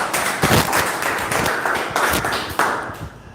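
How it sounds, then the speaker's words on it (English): Audience applause for a student speaker at a practice session, a room full of people clapping briskly and steadily for several seconds, with individual sharp claps standing out close by. "Big round of applause for him"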